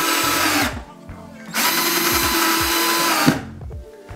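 A power drill drives screws to attach brackets during an IKEA furniture build, whirring loudly in two sustained bursts with a short pause between them, then winding down.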